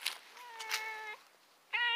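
A cat gives two clear, close meows, the second short and bright, in a quiet outdoor garden of cold-hardy succulents in the Ozarks.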